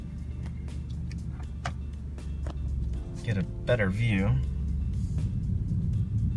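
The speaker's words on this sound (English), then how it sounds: "Let's see if I can move the car." A 2017 Alfa Romeo Giulia's engine idles low and steady from inside the cabin as the car is moved a short way, with a person speaking over the hum.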